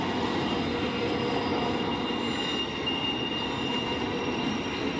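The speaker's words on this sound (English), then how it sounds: "saw him leading this train going by" A freight train rolls past near Auburndale and Lakeland, Florida, its loud continuous rumble of wheels and cars carrying a faint high squeal throughout.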